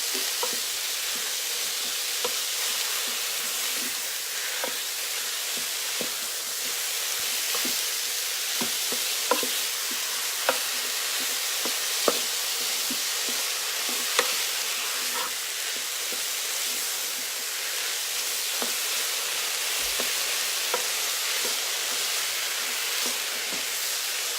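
Steady sizzling and frying hiss of ground beef browning in a pot, with occasional clicks and scrapes of stirring, continuous and fairly loud with no talking.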